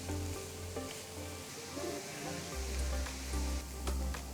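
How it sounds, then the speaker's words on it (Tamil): Chopped large onions sizzle steadily as they sauté in melted butter in a wide pan, a continuous close frying hiss with occasional stirring scrapes and no talking. "வெண்ணெய் உருகுனதும் 3 பெரிய வெங்காயத்தை பொடிசாக நறுக்கி சேர்க்குறேன். வெங்காயத்தை நல்ல பொன்னிறமாக வதக்கிக்கலாம்."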